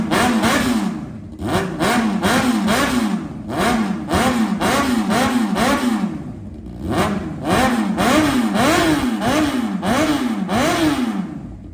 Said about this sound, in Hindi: देखा आपने इस बाइक का कंप्लीट रिव्यू और इसका साउंड टेस्ट।